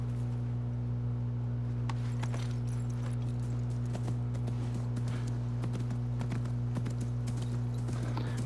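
Horse hooves clip-clop at a walking pace in Assassin's Creed Mirage, steady and close, over a constant low game hum, with nobody talking.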